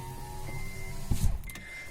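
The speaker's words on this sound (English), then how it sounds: "let me just close the windows as well" Power windows close in a 2016 Honda Amaze S, a faint electric motor whine running beneath a brief thump and rattle as a window reaches the top.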